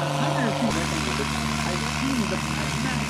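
Engine of a Dust Aircraft Super STOL plane, a steady, droning propeller hum with a low rumble that holds throughout, under a commentator's voice.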